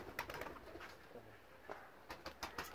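Pigeons cooing on a rooftop, soft repeated low coos and faint flutters, fairly quiet and close against light outdoor background.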